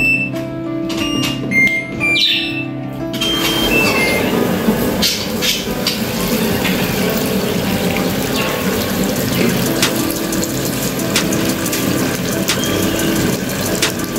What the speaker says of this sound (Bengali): ওয়াশিং মেশিনে দিয়ে দিব। আর ওয়াশিং মেশিনের কাজটা কিন্তু আফিফাই করে।